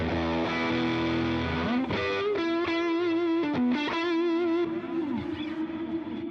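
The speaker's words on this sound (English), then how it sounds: "Listen to how nice these delay effects are in the 4-voice chorus" Electric guitar played through a Line 6 Helix Stadium XL with delay effects and a 4-voice chorus, sustained chords and single notes ringing with shimmering repeats and a lush, wavering wash, alone and close.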